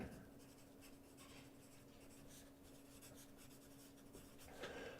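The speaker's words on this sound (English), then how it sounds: "I'll write that down." Pen scratching on paper as a note is written down, a soft continuous scribbling rasp with small strokes and a faint background hum, quiet and close with no talk.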